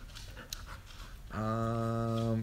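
Golden retriever dogs pant nearby, a rapid rhythmic huffing that kicks in about halfway and stays loud and steady after a stretch of quieter room sound.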